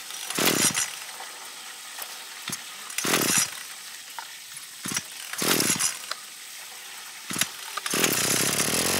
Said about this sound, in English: Can we start this engine off of gasoline made from plastic, plastiline, live?